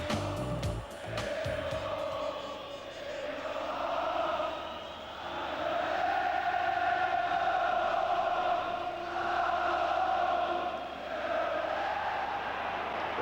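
A 42,000-strong football stadium crowd at a Liverpool match in 1988-89, a broad rumbling roar that swells and fades in waves, loud and continuous after a brief burst of sharp noise at the start.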